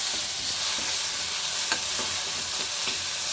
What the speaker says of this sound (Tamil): வெங்காயம் வந்து நல்லா பிங்க் ஆகிற வரைக்கும் வதக்கிக்கலாம்